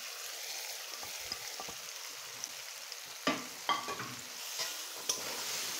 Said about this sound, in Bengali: আমি এখন ডাটাটা দিয়ে দিচ্ছি,